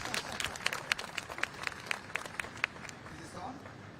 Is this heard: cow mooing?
no